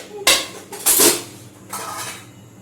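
Large metal kadhai woks clanking as they are handled, with two sharp ringing metallic knocks close by followed by a softer scrape.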